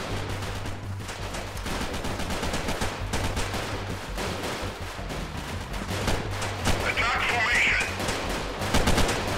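AI soldiers exchange gunfire in the tactical shooter Freeman: Guerrilla Warfare, with dense rattling bursts and single shots going on steadily at close to mid distance, loud and continuous.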